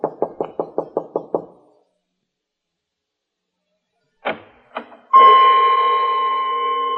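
Knocking on a door as a radio drama sound effect: a quick run of seven sharp, evenly spaced raps, then silence, followed by door handling sounds and a sustained tonal hum.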